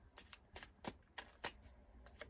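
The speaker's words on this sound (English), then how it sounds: "So I'm going to do the shuffle." Tarot cards being shuffled by hand, a series of quiet, close riffling bursts in an irregular rhythm with no talking.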